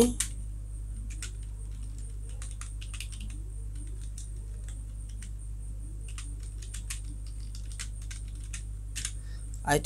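Quick bursts of clicks from a computer keyboard while text is entered for a business card design, with irregular clusters of close keystrokes over a low steady hum.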